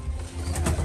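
A racing pigeon cooing close by, a short soft low burble that swells briefly near the end.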